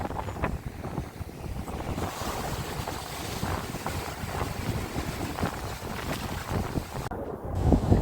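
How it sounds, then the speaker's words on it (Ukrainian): Sea waves wash along the Odesa shore in a steady, rushing surge under gusty wind buffeting the microphone, continuous and close with no voices. "Хвилі."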